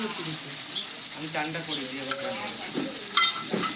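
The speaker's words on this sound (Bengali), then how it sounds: "এই দেখুন বন্ধুরা, আলুর সঙ্গে মশলা কষিয়ে নিচ্ছি।" Potatoes sautéing with spices in a pan before yogurt goes in, a close, steady sizzle broken by scraping stirs and a sharper clatter near the end, with no voice.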